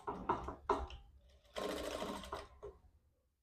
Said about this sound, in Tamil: மடிச்சுக்கிட்டு 1/4 இன்ச்சு இது தையல் போடுங்க.